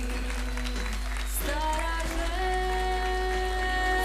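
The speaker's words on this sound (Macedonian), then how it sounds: "Ајде уште еден аплауз за првата придружничка." Audience applause for the first runner-up at a harvest beauty pageant during the 2015 Kočani rice festival, a broad clapping wash sitting under loud, steady music.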